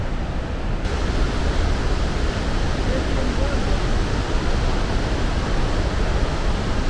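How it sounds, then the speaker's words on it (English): Iguazu Falls in the Brazilian jungle roars as a loud, steady wall of rushing water that stays unbroken throughout. "I don't think I've ever described a waterfall as vast."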